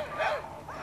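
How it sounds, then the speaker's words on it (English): Sled dogs of a mushing team in Fairbanks, Alaska bark and yip excitedly in quick, overlapping calls, close and clear. "drive a dog team or ride in a sled behind a dog team"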